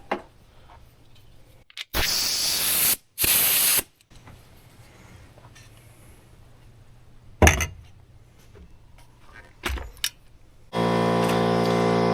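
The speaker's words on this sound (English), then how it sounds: "to get my compressor and just blow it out to clean it up" Compressed air blasts from a blow gun clean out a Stihl 500i chainsaw during repair, with two loud bursts early, a couple of short puffs later and a sustained blast at the end, separated by quiet shop ambience.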